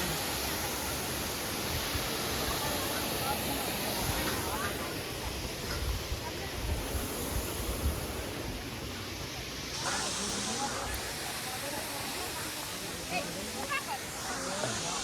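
Water pours over Khodiyar Dam at Dhari in a waterfall, making a continuous broadband roar and hiss that stays loud and even from start to finish.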